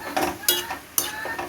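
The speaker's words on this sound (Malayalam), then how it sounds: "ആവശ്യത്തിനുള്ള ഉപ്പ് വിട്ട് നല്ലോണം ഇളക്കിയെടുക്കാം" A spoon stirring salted papaya and lentil tamarind curry in a pot, with a few sharp metallic scrapes and clinks against the pot rim over a soft bubbling background.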